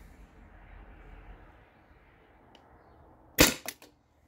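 A single sharp, loud shot from a modified Byrna TCR launcher running on an HPA tank, fired over a chronograph. Two quick, fainter cracks follow it after a quiet stretch of low background noise.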